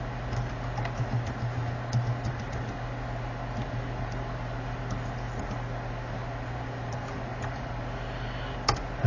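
Keys on a water-damaged HP 15 notebook keyboard are pressed one after another during testing, producing faint, scattered ticks and clicks over a steady background hum, with no talk.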